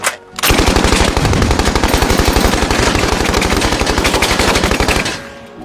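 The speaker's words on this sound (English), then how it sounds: "My boy Clyde, he prefers a Browning automatic 30 cal. Open fire" Browning automatic .30 caliber rifle fires one long sustained burst of rapid, evenly spaced shots, loud and close, then stops abruptly, with no talking.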